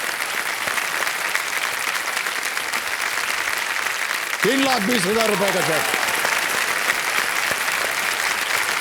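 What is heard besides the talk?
studio audience applause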